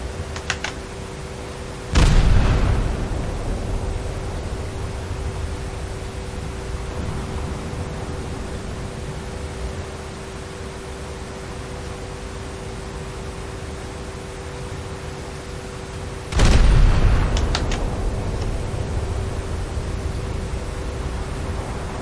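Main guns of the IJN Ikoma battlecruiser firing in War Thunder: two loud, booming salvos about fourteen seconds apart, each with a short rolling tail, over steady engine and sea noise, with no talk.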